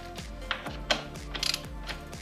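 Chain adjuster bolts on a Kawasaki Ninja H2 SX tightened with a ratchet, a rapid series of clicking pawl strokes with brief metallic taps, close and fairly quiet.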